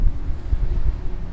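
Heavy wind buffeting the microphone on a CLB65 boat underway at sea trial speed, a loud continuous low roar with gusty rumbling throughout.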